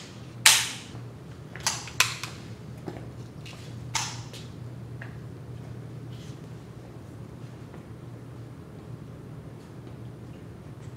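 Rifles fire on an outdoor range during a summer camp for a company of trainees, with a few sharp reports, the first the loudest, followed by scattered fainter shots over a steady background hum.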